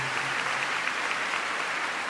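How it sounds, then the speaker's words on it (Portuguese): A Mass congregation in a church applauds together, a steady, even wash of many hands clapping at moderate loudness, with no talking over it. "E aproveite uma salva de palmas que está nos acompanhando pela internet, as redes sociais."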